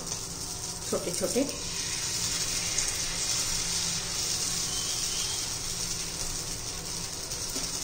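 Steady hissing sizzle of idli batter for cheese uttapam frying on a hot iron griddle, continuous throughout, with a brief spoken phrase near the start.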